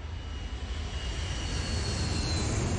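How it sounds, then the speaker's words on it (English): An airplane flies overhead in the survival video game Last Day on Earth: Survival, a steady engine drone that swells gradually and stays loud throughout, with no talking. "God, is it a plane?"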